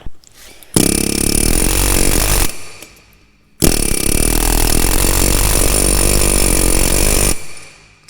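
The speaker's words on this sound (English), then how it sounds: "I'm able to get my air hammer punch right on it and just pop it right on out" Air hammer punch driving a part out of a corn head during a rebuild: two long, loud, close bursts of rapid pneumatic hammering, about two and four seconds long, separated by a short pause.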